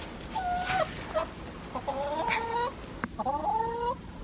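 Hen clucking in a run of short, tonal, repeated calls at close range, with brief gaps between bursts and no talk over it.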